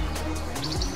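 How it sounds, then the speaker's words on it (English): A brown thrasher sings from a tree at Long Point during spring migration, giving a quick run of bright, clear chirping notes that sound fairly close over steady background noise. "I got a brown thrasher here"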